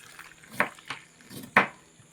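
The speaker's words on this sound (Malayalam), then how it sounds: "നല്ല തിളച്ച വെള്ളം ഒഴിച്ചിടുന്നുണ്ട്" Boiling water is poured over mangoes in a container for salting: a few short, sharp splashes and pours, close by, with quiet gaps between them.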